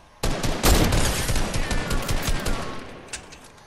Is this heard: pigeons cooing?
no